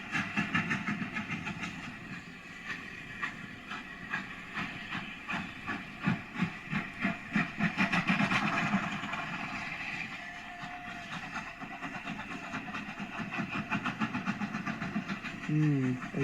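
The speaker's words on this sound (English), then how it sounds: "And with that, Pitty puffed away with the spirit train." A steam train puffs away along a railway, with rhythmic chuffs and rolling wheel clatter building to a peak midway, then easing off; a short whistle-like tone sounds near the end.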